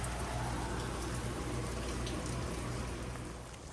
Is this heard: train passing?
no